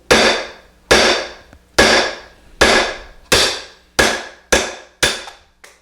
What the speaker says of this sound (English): grab our hammer and just give it a straight down sharp blow